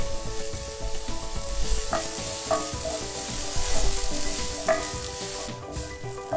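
Onions and green chilies frying in a pan with curry leaves, a steady close sizzle with a few light spoon taps and scrapes as they are stirred, no voices.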